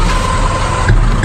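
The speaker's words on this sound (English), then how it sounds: "This is a cold start on a 2014 Honda Pilot" A 2014 Honda Pilot engine on a cold start gives a brief, loud, steady rumble with no talking over it.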